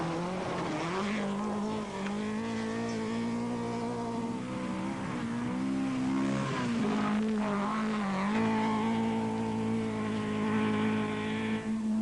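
A Vauxhall rally car driven by Russell Brooks at the 1980 Welsh Rallysprint, its engine note rising and falling as it revs and shifts, heard at a moderate distance with tire squeal, no talk.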